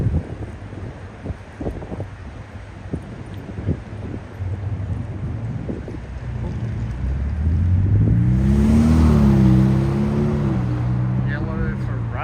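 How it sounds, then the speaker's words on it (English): A yellow Ferrari revs past on a Tokyo street during a Sunday walk, its engine rising from a low rumble to a loud, climbing roar as it nears, with wind noise and people talking throughout. "Yellow Ferrari. Yellow Ferrari."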